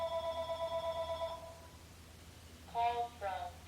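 An indoor telephone rings with a steady repeating electronic tone. The ringing stops after a short pause, then a voice-like announcement follows in two short bursts, all heard close and fairly quiet.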